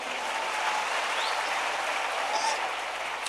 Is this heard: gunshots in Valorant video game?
no